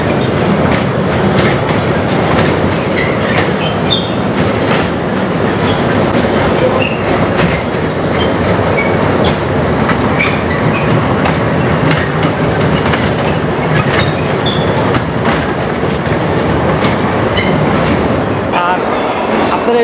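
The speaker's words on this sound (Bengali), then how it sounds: "এটি একটি বাচ্চাদের ট্রেন রাইড।" A children's amusement-park train ride at a fair in Shyamoli, Dhaka, rumbles loudly and continuously with rhythmic clickety-clack from the wheels and occasional squeals, voices faint beneath.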